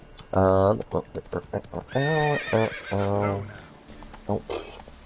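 Roach, the horse in the Witcher 3 video game, gives a loud close whinny with a run of hoof clip-clops between its calls, then neighs again and trails off into more hoofbeats.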